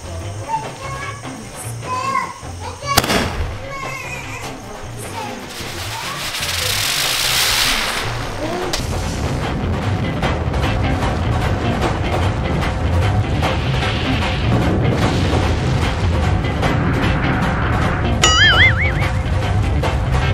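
Scattered sharp pops and crackles of firecrackers during the Karthigai Deepam festival over a steady hiss, with a voice heard faintly early on.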